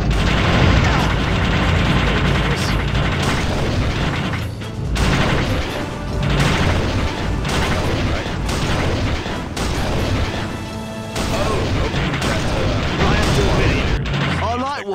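Heavy explosions and cannon blasts blow open a prison in the video game Armed and Dangerous, a loud dense barrage of booms and crashes with someone talking over it.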